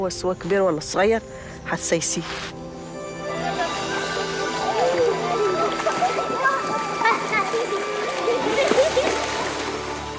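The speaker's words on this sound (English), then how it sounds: "With the first rush of water comes the hope of a good harvest in 9 months' time" Water rushes and splashes into an irrigated garden plot in Egypt, a continuous gushing flow that builds after a few seconds of talk and carries on loud and close.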